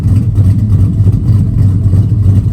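A truck engine rumbles loudly and steadily, with a deep low throb and slight revving surges throughout, no voices present.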